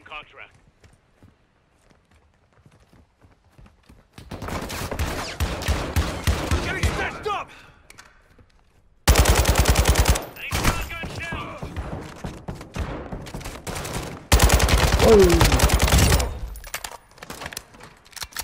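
Video game gunfire in Call of Duty Warzone 2.0 comes as several loud bursts of rapid automatic fire, separated by quieter stretches with player talk and movement.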